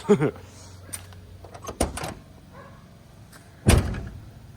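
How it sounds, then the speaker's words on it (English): Several sharp thuds of a vehicle door shutting, a couple close together then a louder slam near the end, with quiet background between. "Let me close this door correctly, and then I'll show it."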